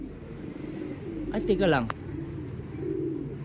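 A pigeon gives a short throaty coo up close in an outdoor bird-keeping spot, and a person speaks briefly nearby.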